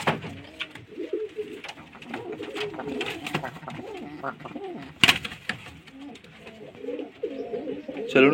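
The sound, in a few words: Madras pigeons cooing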